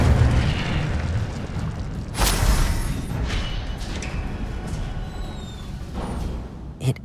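Incendio fire spell blast in Hogwarts Legacy, a sharp booming burst of flame around the two-second mark followed by fainter bursts and crackles, with a final short pop near the end.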